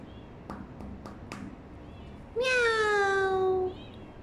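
A single drawn-out cat meow, loud and close, following a few soft taps over quiet background noise.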